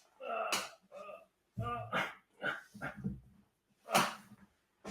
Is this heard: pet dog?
yes